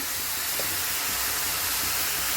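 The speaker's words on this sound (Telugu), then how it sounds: "ఆయిల్ వేడెక్కింది ఇప్పుడు ఉల్లిగడ్డలు వేసి" Sliced onions with salt hitting hot oil in a pan, giving a steady, dense, close hiss that runs evenly without a break and with nobody talking.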